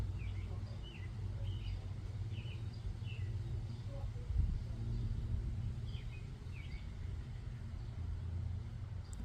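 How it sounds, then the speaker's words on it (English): Several different birds chirp and call faintly outdoors over a constant low rumble of distant vehicles and wind. "All the different birds"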